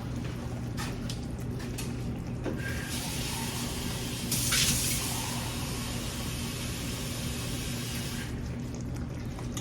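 Water pours steadily from a tap or into a pan while making gravy for cornbread dressing and Cornish hens, a constant close splashing hiss with a brief louder gush midway.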